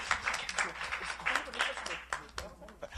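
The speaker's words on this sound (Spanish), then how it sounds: "Otro aplauso, por favor." Audience applause at a community gathering in Guatemala City neighborhoods, a short, uneven round of clapping from a modest crowd, with individual claps standing out and a faint murmur of voices underneath.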